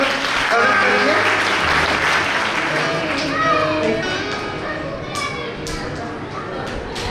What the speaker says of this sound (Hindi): तो ऐसे वक्त के लिए एक बार सभी जोरदार ताली की ओर अपन सब स्वागत करेंगे।